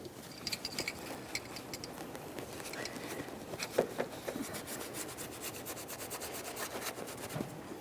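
Valve cover gasket mating surface being scraped clean on a 1998-2011 Ford Ranger with the 2.3L four-cylinder; steady close scrubbing and rasping strokes, fairly quiet, continuous with a few sharper scrapes and no talking.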